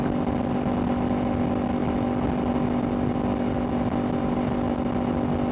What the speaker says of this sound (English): It's silky smooth, even in like this higher gear going up the RPM range.